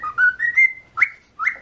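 A pet bird whistles a short run of rising, slurred notes, then two more separate whistles after brief pauses, close and fairly loud with no talking over them.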